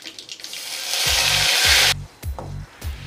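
Onion paste dropped into hot oil in a heated kadai already tempered with mustard seeds, urad dal and cumin sends up a loud, hissing sizzle for about a second, which cuts off abruptly and is followed by a few low, muffled knocks.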